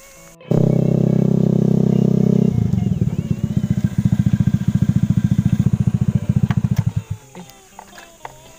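A motorcycle engine starts up nearby, idles with a steady roar, then chugs in rapid rhythmic pulses before cutting off.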